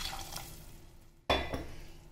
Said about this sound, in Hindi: अब हमें जितनी इसमें ग्रेवी चाहिए ना उतना हम इसमें पानी डाल देंगे।